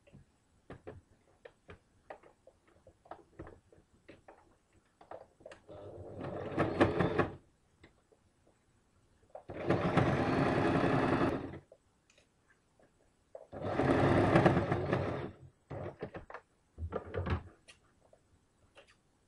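A sewing machine stitches the slits of a kameez in several separate bursts of whirring, a few seconds each, with quiet clicks and handling taps between them.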